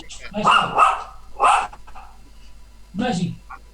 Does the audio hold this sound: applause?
no